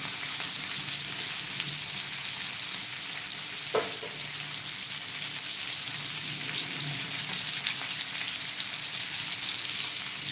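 Bangda mackerel frying crisp in a pan gives a steady, dense sizzle throughout, with one sharp clink as the fish is turned and no voices.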